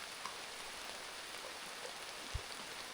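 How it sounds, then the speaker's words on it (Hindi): Heavy monsoon rain pouring steadily in the Dang jungle, a dense hiss of drops on surfaces with an occasional nearby thump, no voices. "बारिश बहुत ही ज़ोर से शुरू हो गई है।"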